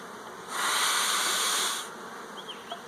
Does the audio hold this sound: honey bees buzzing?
yes